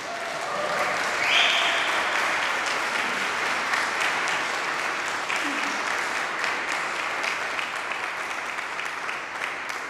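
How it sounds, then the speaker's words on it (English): Sustained applause from a seated audience at a live trumpet recital, dense and steady for the whole stretch, swelling slightly early on then holding an even level without any talk over it. "we always wait till the end to give the composer applause, but let's just do it now"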